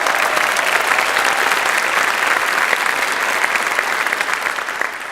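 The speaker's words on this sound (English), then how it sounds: "Will we please give them a round of applause?" An audience applauds loudly for a men's chorus at a marriage-equality rally, a dense, steady wash of many hands clapping that carries on throughout and eases slightly near the end.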